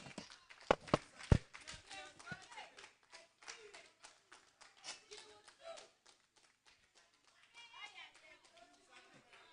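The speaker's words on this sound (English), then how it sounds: "Let's clap for them." Scattered audience clapping at a student manifesto reading, a few sharp close claps at first followed by light, sparse clapping and tapping, faint, with voices talking in the room.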